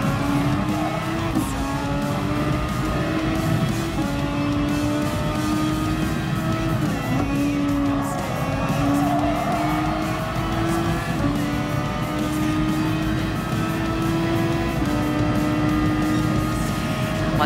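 A race car engine in Gran Turismo Sport drones loud and steady, rising through the gears and dropping on each shift, with faint tire squeal under a continuous roar.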